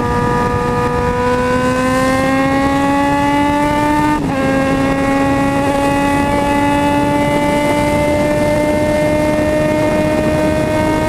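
A motorcycle engine roars steadily and loud at close range, its pitch climbing slowly, then briefly dipping as if shifting gear before rising again, with no voices.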